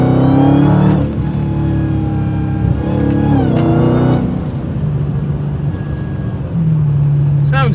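A Dodge Challenger Redeye in sport mode revs hard close to the microphone, its deep exhaust rising and falling through several throttle blips before settling into a rumbling idle, with a person talking briefly.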